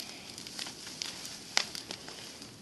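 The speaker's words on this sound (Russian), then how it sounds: "у нас такой огромный костер" A huge outdoor bonfire crackles softly, with sparse, faint pops and snaps scattered irregularly over a low, steady background hiss.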